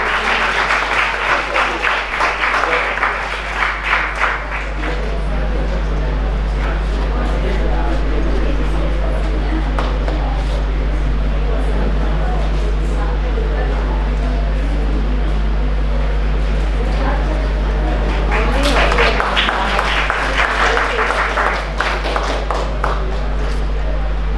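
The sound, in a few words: audience applause at ceremony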